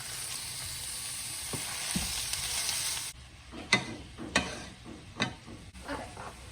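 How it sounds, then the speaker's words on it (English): Ground beef sizzles in a hot pan while making Jamaican beef patties, a steady frying hiss that drops away partway, followed by several sharp scraping stirs and clacks of a utensil against the pan. "I'm going to add in my ground beef."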